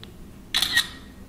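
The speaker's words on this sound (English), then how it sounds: "here the shutter sound, the screenshot is now taken" An iPhone 8 plays its simulated camera shutter as a screenshot is taken: a single crisp double-click snap, short and close, in an otherwise quiet setting.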